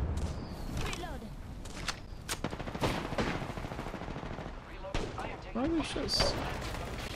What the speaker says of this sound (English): We're being shot at from behind.